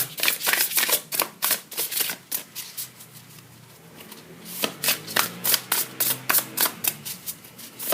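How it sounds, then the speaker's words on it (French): Tarot cards being shuffled and drawn by hand, a dense run of quick crisp riffles and flicks close up that eases midway and then picks up again, with no talking. "je vais tout de même les tirer, les cartes du tarot"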